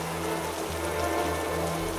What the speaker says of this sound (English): As I drove off, it was still raining.